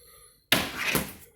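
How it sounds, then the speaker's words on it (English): A single door swings shut with a solid slam in a quiet home, a sharp close impact followed by a short rumbling decay, heard on its own with no talk. "let me close one more door"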